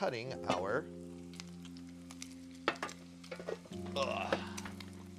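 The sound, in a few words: bacon rendering and frying in a small pot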